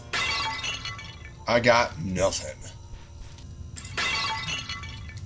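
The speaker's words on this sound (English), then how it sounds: "I hear y'all smashing shit" Breakable objects shatter in a backrooms-style video game, with crunchy smashing bursts at the start and end and a brief spoken line between them.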